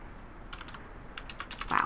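Typing on a computer keyboard: two short bursts of quiet, close key clicks separated by a brief pause, with a slightly louder keystroke at the end.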